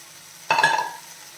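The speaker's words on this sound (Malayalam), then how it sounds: "തക്കാളി നല്ല രീതിയിൽ വഴഞ്ഞിട്ടുണ്ട് നമ്മൾ എടുത്തു വെച്ചിരിക്കുന്ന മല്ലിയിലയും പുതിയന ഇലയും ഇട്ട് കൊടുക്കാം" Tomatoes with coriander and mint leaves are sautéed in a pan for a chutney, a single short burst of stirring clatter and sizzle with a faint metallic ring, then quiet.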